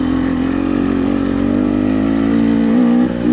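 A 2021 KTM 300XC two-stroke dirt bike in third gear at low speed on a mountain trail, a loud, steady close engine drone holding an even pitch with a slight wobble near the end.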